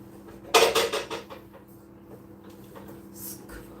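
Pots, pans and cutlery clatter loudly in a home kitchen during a hunt for a frying pan, a burst of metallic clanks and scrapes that fades into quieter rummaging and a faint clink.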